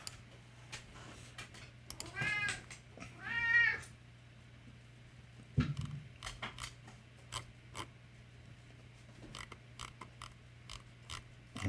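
A house cat meows a few times early on, faint, drawn-out calls over a low steady hum, followed by scattered small clicks and taps.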